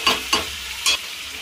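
Chicken pieces with cumin and pepper powder stir-fried in a pan for an Afghani chicken kosha, with three short scraping strokes of a spatula over a quiet sizzle, close and alone.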